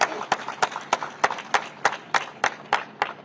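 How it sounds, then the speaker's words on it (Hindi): Rhythmic unison clapping from an audience honouring a hospital team at a Women's Day event, about a dozen evenly spaced sharp claps, fairly close and steady. "तो एक बार जोरदार तालियां आप सभी के लिए, पूरी फोर्टिस की टीम के लिए।"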